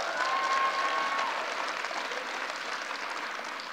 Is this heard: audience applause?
yes